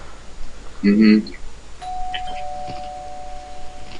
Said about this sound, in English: I heard a ding dong.